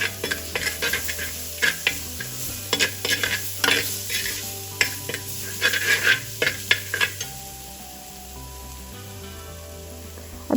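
Spices sautéing in a hot pan for tomato rasam made with roasted tomatoes, a steady sizzle under repeated sharp scrapes and clinks of a spoon stirring, the stirring stopping for the last few seconds while the frying hiss continues alone.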